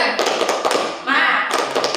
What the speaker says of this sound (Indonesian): Kelompok 2, tepuk semangat.